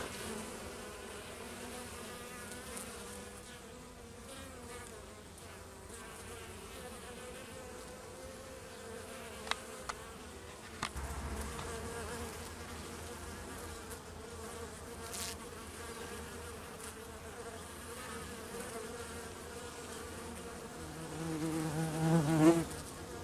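Honeybees buzz steadily at the entrance of a hive as foragers return carrying pollen loads, a dense continuous hum from many insects close by, with occasional louder passes as individual bees fly near.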